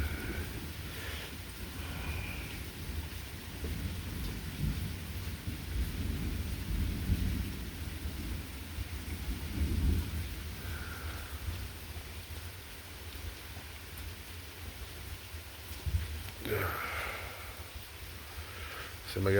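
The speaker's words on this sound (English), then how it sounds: "Still got light rain, lightning, and thunder." Light rain patters steadily through a thunderstorm while deep thunder rumbles roll in and swell at intervals, moderately distant, under a continuous low wash of rainfall.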